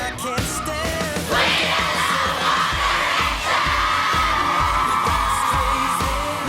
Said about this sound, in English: The girls have been screaming and falling